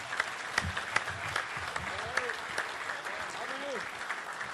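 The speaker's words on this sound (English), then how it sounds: "Let's give these guys a round of applause here." Fairly faint, steady applause from a coaches' convention audience, with a few sharper individual claps standing out and voices talking over it.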